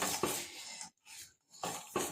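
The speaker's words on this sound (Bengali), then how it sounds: "এরকম করে একটু গোল গোল করে এরকম করে সমানে নাড়তে হবে" A spoon scrapes and clinks around a pot of jaggery kheer while it's stirred in circles, a few close rhythmic strokes with brief pauses between them.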